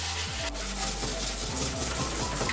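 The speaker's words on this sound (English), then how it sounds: "Then wet sanding." Wet sanding a 3D printed Toyota 4Runner RC car body: a steady rubbing and scraping texture with repeated strokes, close and moderately loud, alone without speech.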